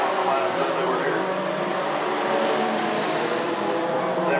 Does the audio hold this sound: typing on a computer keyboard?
no